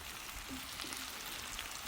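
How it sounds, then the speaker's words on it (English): A steady crackling sizzle of Brussels sprouts frying in a hot pan, close and moderately quiet, with scattered pops over a continuous hiss. "Now we're starting to get real frying going, too."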